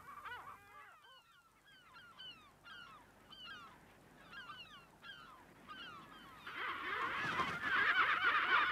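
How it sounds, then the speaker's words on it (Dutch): Herring gulls call over and over from a coastal breeding colony, a steady stream of sharp, slurred cries that overlap at middle distance, with the whole colony growing louder and denser toward the end. "Zilvermeeuwen broeden in grote kolonies langs de kust."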